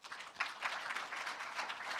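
Audience at a lecture on communication and meeting skills at Cheong Wa Dae, the Blue House, clapping together in a dense, steady patter of many hands that carries through the whole moment without talk.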